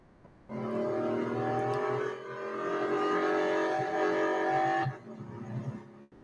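A car engine in the racing video game Real Racing 3 holds high, steady revs, dips briefly, climbs again, then drops off sharply near the end, loud and continuous with no talk.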